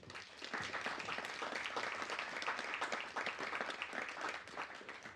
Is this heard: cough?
no